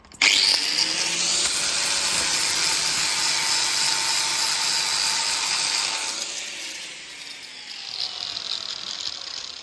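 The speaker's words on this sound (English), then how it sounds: "Flap disc it first, see where we're at." Harsh high grinding of a flap disc on an angle grinder smoothing a thick metal weld, loud and close, holding steady for several seconds before easing off as the tool lightens its contact.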